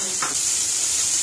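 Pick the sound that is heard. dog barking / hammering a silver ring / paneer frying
paneer frying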